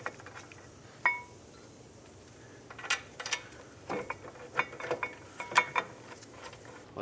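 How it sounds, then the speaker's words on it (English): A ratchet fastens the new brake caliper bracket on a 2003-2007 Nissan Murano, giving quiet close metallic clicks and clinks in short irregular bursts with no talking. "Take your new bracket and let's bolt it on."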